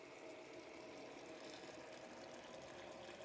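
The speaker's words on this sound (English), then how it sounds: "all I'm going to do now is I'm going to add boiling water" Boiling water pours steadily into a pitcher, a continuous soft rushing and splashing with no break, heard close but at low volume.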